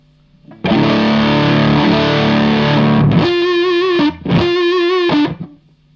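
Distorted electric guitar chords through a Rory Gallagher Hawk boost pedal with bass up full ring out loud with a heavy, full low end, then two shorter sustained notes follow.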